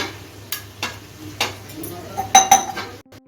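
A metal spoon stirs cumin, coriander, turmeric and Kashmiri chili powders with a little water into a paste in a bowl: a few sharp, close clinks and scrapes against the vessel, spaced irregularly over a quiet kitchen background.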